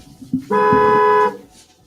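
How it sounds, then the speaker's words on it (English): A car horn from a driving-fails clip played on a computer gives one loud, sustained honk lasting under a second, preceded by a couple of soft thumps in the room. "the dogs hear that horn honking"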